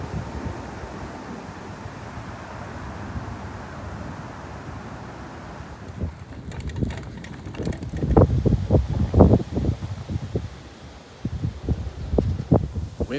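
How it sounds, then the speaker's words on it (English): Wind blowing outdoors during a walk, a steady breathy rush buffeting the microphone, joined later by rustling and irregular footstep-like clatter nearby. "Wind is a-blowing today here."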